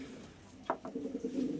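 Pigeons coo softly while pecking at paddy scattered on the ground, a few faint, low, throaty coos starting midway and repeating close by against a quiet background.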